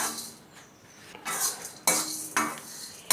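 Chana dal roasting in a pan over medium flame, with sharp metallic scrapes and clinks of a spoon stirring against the pan in a few separate bursts and faint sizzling between them.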